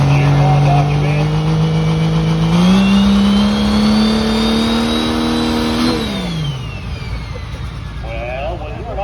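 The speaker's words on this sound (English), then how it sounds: "when you're an automatic transmission truck and you go that far upstairs in the RPM, the tires don't move" A Dodge truck with an automatic transmission revs hard to high RPM at a sled pull event, a loud sustained engine whine that climbs in pitch, holds, then drops away as the pull ends.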